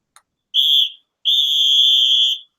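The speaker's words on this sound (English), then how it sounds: "I know I just blew a whistle." A whistle gives a short shrill blast followed by a longer sustained one, loud and close, with silence around them.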